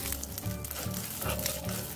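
Tamarind and chillies fry in a pan, giving a faint, steady low sizzle with soft intermittent rustling as they are moved around.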